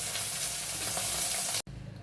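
Chital fish muitha, a Bengali fish dumpling, fries in hot oil with a loud, steady, close sizzle that cuts off abruptly, then returns softer.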